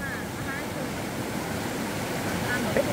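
A flooded river, swollen wide after heavy rain, rushes in a steady, loud broadband roar that never lets up, with faint voices in the background.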